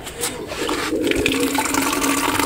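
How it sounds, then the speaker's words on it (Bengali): Water pours steadily into a container holding pigeon medicine, a close, continuous splashing and gurgling stream that starts softly and then fills out, with no voices. "সম্পূর্ণ এটা ঢেলে দিলাম ভিতরে। তো পানিটা দিয়ে"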